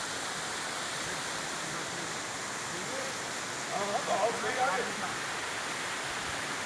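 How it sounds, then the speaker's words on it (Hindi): A large waterfall on the Gaurikund–Kedarnath trekking route roars as a steady, broad rushing wash of water, constant throughout, while a person talks briefly midway. "हमारे पीछे कितना सुंदर विशाल झरना बहता हुआ,"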